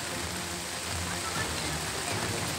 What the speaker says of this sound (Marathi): मुसळधार पाऊस सुरू झालेला आहे